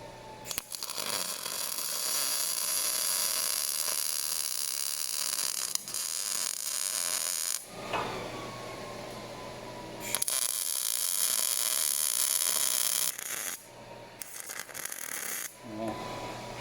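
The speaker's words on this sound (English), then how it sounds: "trying to go over that flux core weld" Flux core arc welding on a dyno coupler, a loud, steady crackling hiss that runs in long bursts with brief breaks between passes.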